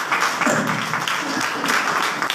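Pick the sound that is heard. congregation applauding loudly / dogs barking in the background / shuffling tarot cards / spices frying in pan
congregation applauding loudly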